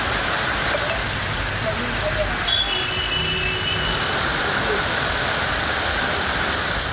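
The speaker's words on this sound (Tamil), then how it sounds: "பலத்த காற்றுடன் மழை கொட்டியது" Heavy rain driven by strong wind pours down in Tamil Nadu, a loud, dense and unbroken hiss with a deep rumbling roar beneath it throughout.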